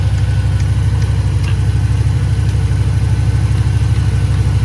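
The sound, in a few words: air suspension compressor running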